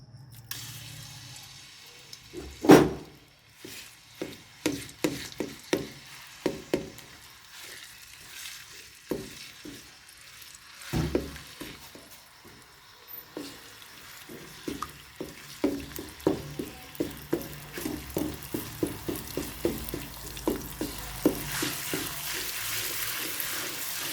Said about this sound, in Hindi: ये लहसुन अदरक तकरीबन 1 बड़ा चम्मच है। इसको मैं अब डालने लगी हूँ।